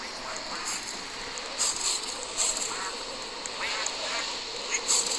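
Ducks quacking inside a Roblox game, several short nasal quacks scattered over a constant background hiss, moderately close but fairly quiet, no talking.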